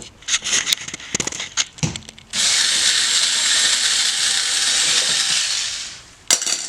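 A small rechargeable power screwdriver whirs steadily for about four seconds as it backs out the screws of an electrical outlet cover, preceded by scattered clicks and handling noises and ending with a brief knock.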